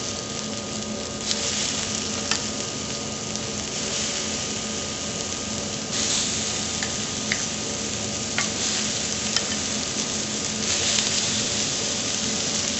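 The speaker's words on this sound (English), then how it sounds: "this is a pretty hot grill, so we should get some nice sizzle" Lamb chops sear on a very hot oiled grill, giving a steady, dense, loud sizzle that hisses without break, with occasional small pops and crackles over it.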